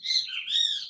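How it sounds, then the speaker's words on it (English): Small birds outside give a short, bright burst of chirping, two quick warbling phrases heard close and clear with nothing else in the background. "Excuse my stupid birds outside."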